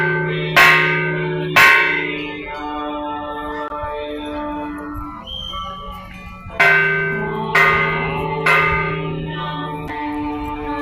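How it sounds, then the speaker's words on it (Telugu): Temple bells ring out at the Dokiparru Sri Bhoosametha Venkateswara Swamy shrine: several loud, clanging strikes in irregular pairs, each leaving a long shimmering ring that fades between hits. "మా పాపాలు తొలగించడానికి ఈ విధంగా నీ దగ్గరికి వచ్చాము అని ఆయనకు వినిపించేలా ఘంటానాదాలు చేస్తున్నారు."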